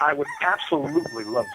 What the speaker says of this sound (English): if you guys are wondering why you guys are hearing the rooster in the background